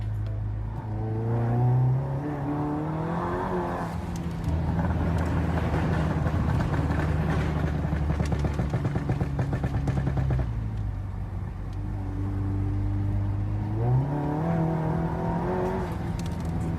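Revving exhaust of a modified car fitted with a Euro Custom Stage 2 APR RSC catback, front-mount catted downpipe and Carbonio intake, rising and falling through several loud, close blips with a steady idle between.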